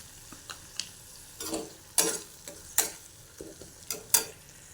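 Spice paste of coriander, cumin, turmeric, salt and tomato ketchup stir-fried in a pan, quiet sizzle broken by sharp, irregular spatula scrapes and knocks, close and alone.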